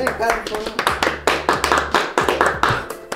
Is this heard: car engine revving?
no